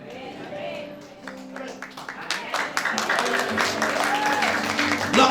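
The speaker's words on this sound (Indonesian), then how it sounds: "Langsung semua tepuk tangan." A church congregation breaks into applause during a sermon, claps building from scattered to a dense patter while a voice speaks and others call out over it.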